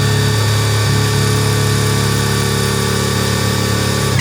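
A SHIDOKU SH-G3 700 Nm compact cordless impact wrench runs free at its second speed, giving a loud, steady motor whine with a constant hum that does not change over the short stretch, with no one talking.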